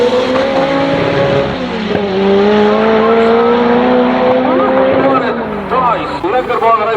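A Nissan 1400 bakkie racing with a 250 kW pushrod stock-block engine, its loud, strained note climbing steadily through the gears and then dropping off near the end, with a voice talking over the noise.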